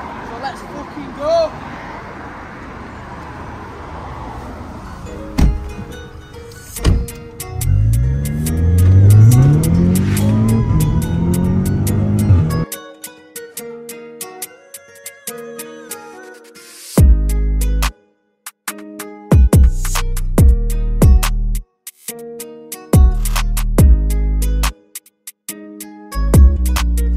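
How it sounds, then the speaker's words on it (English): Drag racing cars at a Race Wars event, engines revving and roaring past in bursts at middle distance, with a long rising acceleration sweep followed by sharp, repeated on-off blasts, crowd chatter faintly underneath. "We've been watching some drag races, as you can hear in the background now."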